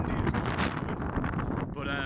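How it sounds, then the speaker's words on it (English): Wind buffets the microphone in loud, gusty rumbles with a roaring, uneven texture throughout. "Windy as well."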